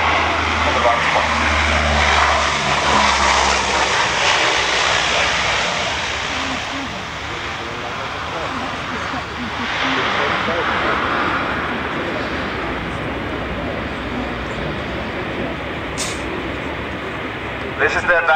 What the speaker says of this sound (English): This is the advantage of a turboprop aircraft, really.